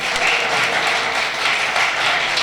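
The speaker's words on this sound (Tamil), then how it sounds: "சிறப்பாக ஒரு தடவை கை தட்டினீங்கன்னா" Audience clapping hands together at a Tamil talk on tantric remedies, a dense, steady wash of applause filling the whole stretch with no pauses.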